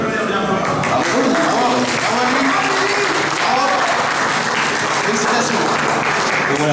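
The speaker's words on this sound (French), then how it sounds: "on peut l'applaudir bien fort" A conference audience at Japan Touch Haru 2015 applauding a prize winner, sustained dense clapping from a crowd filling the whole stretch, with voices talking over it.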